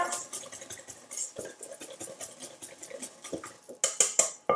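Gluten-free chocolate cake batter is mixed briskly in a bowl, with a quick scraping, clinking rhythm of utensil against dish, fairly close and moderate in loudness, ending in a few sharper metallic taps.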